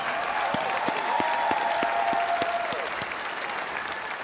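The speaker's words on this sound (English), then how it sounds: "How about a round of applause for Carol Davis" Crowd applause at a Hall of Fame speech for Carol Davis, full steady clapping with a few sharper nearby claps and a faint tone drifting through, easing slightly toward the end.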